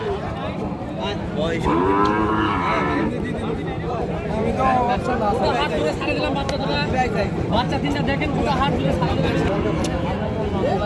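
Cattle lowing and mooing close by amid a busy outdoor cattle market crowd, with several people talking throughout.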